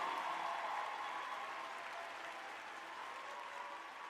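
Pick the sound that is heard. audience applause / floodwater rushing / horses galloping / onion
audience applause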